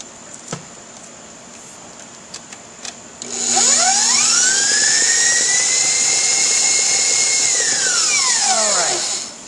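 An electric mixer beating sugar cookie dough: after a few light clicks, the motor whines up to a loud, steady high-pitched drone that holds for several seconds before winding back down.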